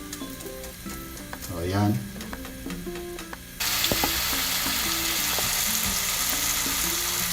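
Kangkong fritters frying in coconut oil, a soft sizzle and clinks of a utensil that swell into a loud, steady crackling sizzle, with brief speech at the start.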